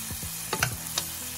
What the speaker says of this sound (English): I spoon some butter over the top of this guy